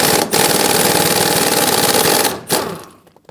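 A power impact tool rattles continuously while loosening the 18mm bolts on a Ford F-450 Super Duty seat, a loud, steady buzzing run of over two seconds that cuts off, followed by a short final burst.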